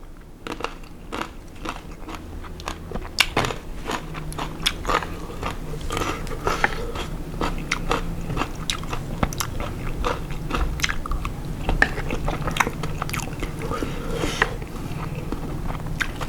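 Crunchy cherry tomatoes being bitten and chewed up close, with loud, repeated wet crunches and crackles at a steady chewing rhythm and no talking.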